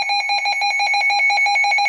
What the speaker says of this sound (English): when the National Weather Service does issue a tornado warning, it will alarm